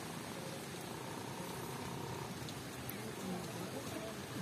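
Heavy rain and rushing flood water make a dense, even hiss that stays steady and fairly faint from start to finish, with no clear voices.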